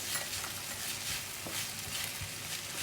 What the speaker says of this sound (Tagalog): At igisa lang natin ito ng konti, saka natin siya tubigan.